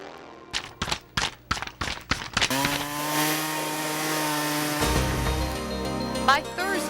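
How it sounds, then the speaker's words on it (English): Chainsaws clearing hurricane storm damage in a Memphis neighborhood after Hurricane Elvis: a few sharp bursts, then a loud, steady high-revving whine that holds for several seconds with a slight pitch shift near the end. "chainsaws and cranes became welcome noises in nearly every Mid-South neighborhood"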